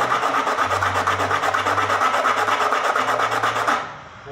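Sandpaper rasps against the wooden foot of a rabeca (fiddle) bridge in steady, rhythmic back-and-forth strokes, close and continuous for about four seconds before stopping, with a low hum underneath.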